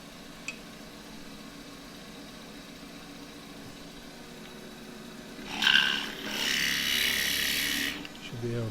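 Small bark-rimmed bowl turned from firewood-grade wood with a 3/8 spindle gouge, a quiet background hum giving way to a louder sustained rasping scrape of the cut for about three seconds near the end.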